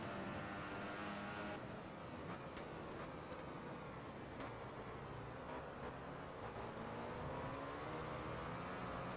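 A Ducati racing motorcycle screaming around Silverstone in Valentino Rossi the Game, its engine revving in rising and falling sweeps with sharp gear-change cuts, other bikes droning alongside, loud and continuous.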